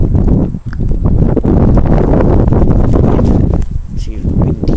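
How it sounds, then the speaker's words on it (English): Strong wind gusting outdoors in cold spring weather near a bowling green, a steady broadband roar buffeting the microphone and rising and falling throughout. "See the wind here."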